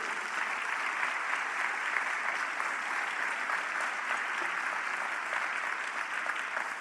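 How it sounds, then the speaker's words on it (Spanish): A church congregation applauds at a sermon, a dense, even wash of clapping that runs steadily for several seconds with no talk over it. "Denle un aplauso al Rey."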